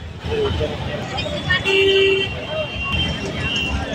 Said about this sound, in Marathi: बघा केवढी ट्रॅफिक.